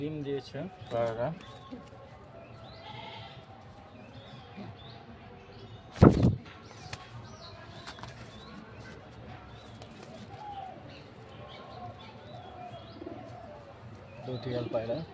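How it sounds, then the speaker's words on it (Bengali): Two nesting pigeons with eggs coo softly near the start and end, with a sharp knock in the middle and quiet ambient noise between. "দুটি পায়রা"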